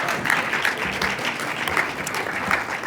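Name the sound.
audience applause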